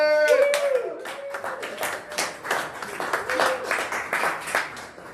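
Comedy club audience applauding as the last comedian takes the stage, a burst of scattered hand claps that swells into dense, lively applause with a few cheers.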